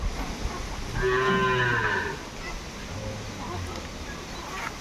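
Cattle being gathered for sale in a village give a single loud, drawn-out moo close by, followed by a second lower, fainter low over a steady outdoor background.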